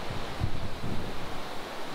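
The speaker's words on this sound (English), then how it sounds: "Nothing but ocean." Ocean waves and wind on the open deck of a Carnival Firenze cruise ship at sea, a steady broad wash with low gusty rumble of wind buffeting the microphone throughout, no voices.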